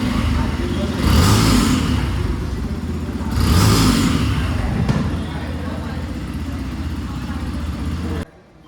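A vehicle engine hums just after the key is turned, with two louder swells of revving or passing noise over a steady low drone, under people talking, ending abruptly.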